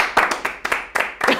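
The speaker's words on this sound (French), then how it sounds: "Vous allez vraiment tout applaudir à chaque fois" Audience clapping in a studio game show, about five sharp, evenly spaced claps in quick rhythm, close and clear, with people talking alongside.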